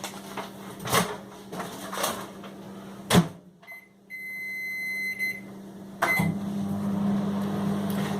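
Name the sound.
microwave oven heating rice pouches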